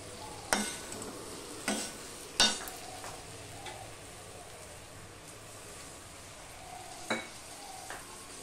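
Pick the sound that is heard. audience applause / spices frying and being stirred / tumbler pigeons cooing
spices frying and being stirred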